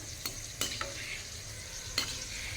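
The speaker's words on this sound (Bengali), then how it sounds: "কিশমিশটা ফুলে গেলেই দেখুন ভাজা হয়ে যাবে" Raisins fry in oil in a kadai with a faint continuous sizzle, broken by a few sharp clinks and scrapes from stirring.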